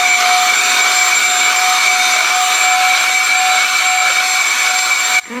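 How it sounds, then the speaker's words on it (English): A vacuum cleaner runs at steady full power with a loud, even whine, close by and unbroken, then cuts off abruptly at the very end. "Time to vacuum."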